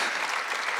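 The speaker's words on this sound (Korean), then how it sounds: "박수로 하세요." A church congregation at an Easter worship service bursts into applause, a dense, even wash of many hands clapping together in a large room, loud and sustained through the whole brief moment.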